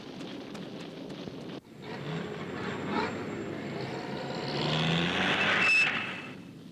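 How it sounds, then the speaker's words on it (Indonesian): Vehicles roar and rumble in a tense scene from a 1986 Indonesian film, a truck closing in as tires skid, the noise swelling louder toward a harsh screech near the end with no talk over it. "Ada truk datang!"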